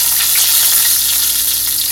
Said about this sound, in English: So we're just frying up a couple.